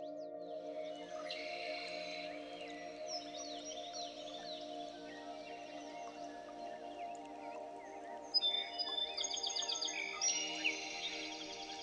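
A goldfinch and a warbler sing and chirp in overlapping phrases over a steady hum in the Great Smoky Mountains, growing busier and brighter toward the end.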